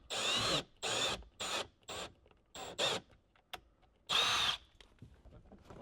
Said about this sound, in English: go really, really slow as you're drilling these